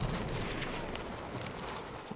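Vetterli infantry rifle, a bolt-action weapon in the Battlefield 1 video game, fired from the hip amid dense, continuous battlefield gunfire and explosions that fill the short stretch at steady loudness.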